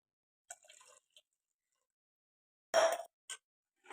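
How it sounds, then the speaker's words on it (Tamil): Water is poured into a pot of tomato sambar in a home kitchen, giving a short splashing pour and then a louder, brief splash followed by a couple of small drips. "இனி வந்து தண்ணி ஊற்றி"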